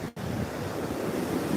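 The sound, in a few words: ocean waves at beach on Jupiter Island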